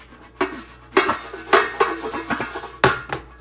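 Stove top popcorn pot being shaken on the burner, giving a series of sharp metallic rattles and scrapes in irregular bursts, fairly close and moderately loud, with no voices.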